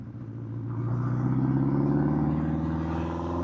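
A 1979 Honda CB750F Super Sport motorcycle engine drones steadily while riding, a close, even mid-pitched hum that swells slightly as it pulls along.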